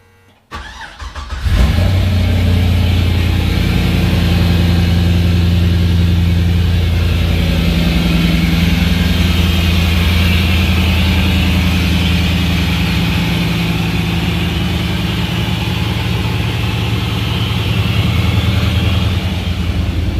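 A Nissan LS-swapped S13 drag car engine cranks and catches after a brief start, then settles into a loud, steady, lumpy idle that runs on without pause.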